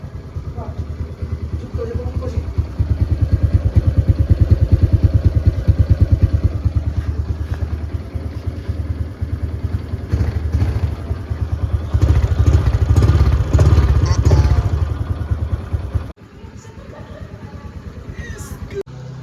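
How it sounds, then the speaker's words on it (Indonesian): A Honda Supra X 125 Fi motorcycle with stock exhaust idles up close with a steady, low chugging exhaust pulse, swelling briefly louder before dropping off near the end. "Ini dia knalpot standarnya ya, suaranya. Ini kita dengar lebih dekat."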